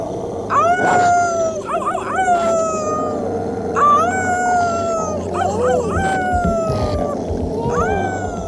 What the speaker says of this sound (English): he started to howl with fear